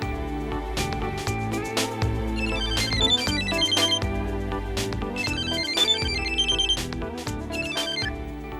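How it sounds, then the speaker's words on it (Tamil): A phone ringtone plays a loud, continuous melodic tune of repeating electronic notes, with no talking over it. "ஜோதி, பேங்க் மேனேஜர் ஃபோன் பண்ணாரு."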